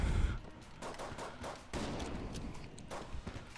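Rapid gunfire bursts from the video game Enter The Gungeon, a string of sharp shots and volleys at moderate level, with no voices over them.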